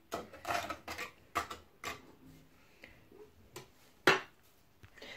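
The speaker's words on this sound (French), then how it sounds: "j'ai pris le fouet pour bien mélanger, pour éviter les grumeaux" A whisk knocks and scrapes against a pot while stirring chocolate and milk for an egg-free, no-bake three-chocolate dessert, giving a string of close, irregular clinks and taps with a sharper clatter near the end.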